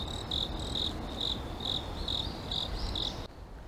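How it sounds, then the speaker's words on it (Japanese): Shrill cricket chirps ring outdoors during a cool autumn morning walk, about seven evenly spaced calls over soft background hiss, stopping abruptly near the end. "もうコオロギかな、鳴いてますね。"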